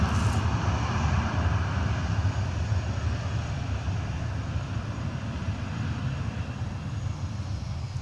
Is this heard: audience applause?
no